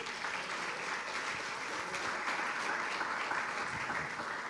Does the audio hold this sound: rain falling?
no